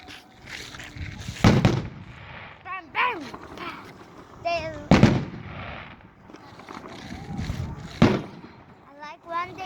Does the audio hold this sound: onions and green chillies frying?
no